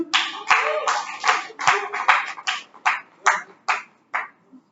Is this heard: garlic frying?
no